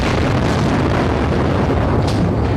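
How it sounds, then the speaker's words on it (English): A big bomb explosion at night in Baghdad, near the information ministry, in news footage, a loud sustained roaring rumble that fills the whole stretch without a break. "an especially big explosion shook the night, apparently from a bomb that hit near the information ministry"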